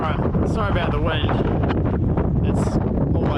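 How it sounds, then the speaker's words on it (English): Strong wind buffets the microphone outdoors in Cape Range National Park, a loud continuous roar with gusts, while a person talks over it. "sorry about the wind."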